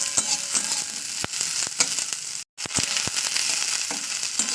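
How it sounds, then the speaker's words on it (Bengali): Beans frying in a little oil in a pan, a steady close sizzle broken by repeated sharp clicks and scrapes of stirring, with no voices. "বিনসটাকে সেম আমি 1 থেকে 2 মিনিট একটু তেলে করে ভাজা করে নেবো"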